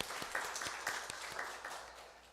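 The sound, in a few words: church congregation applauding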